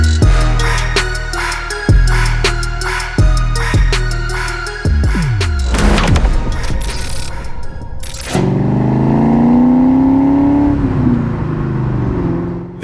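A clean 1999 Ford Saleen S-281 with a factory-supercharged 4.6 V8 pulls hard on an open road, running through several quick upshifts with sharp surges before settling into a loud, steady supercharged whine and drone, with no talking.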